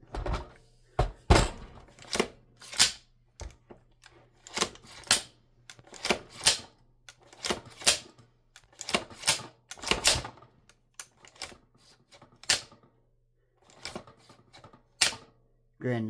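The bolt of an AR9 pistol-caliber carbine fitted with an Atrius super selektor is cycled by hand, giving a long series of sharp metallic clacks and clicks at an irregular pace, with a voice talking in between.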